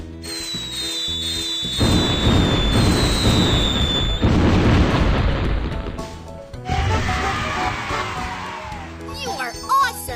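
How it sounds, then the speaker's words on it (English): Cartoon fireworks set off in a children's sailing game about a ship captain, with bursts and crackling pops over a bright musical backing, loud and continuous with whistling sparkles. "Let's set off fireworks."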